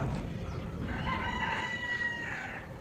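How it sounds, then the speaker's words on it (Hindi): Roosters crow in drawn-out calls at early morning in a village, over a steady outdoor background hum, a couple of overlapping crows at moderate distance. "मुर्गों की आवाज़ें भी आ रही हैं"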